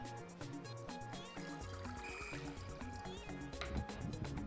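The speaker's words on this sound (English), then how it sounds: "Add some water." Water being poured into a cooking pot on a stove while preparing okra soup, a continuous trickling and filling sound with small splashes that runs throughout, fairly close and moderately loud.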